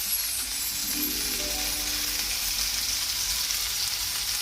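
Chili powder and asafoetida sizzle in hot oil for a Bengali fish-egg curry, a steady, close frying hiss with a faint clink of a utensil near the start.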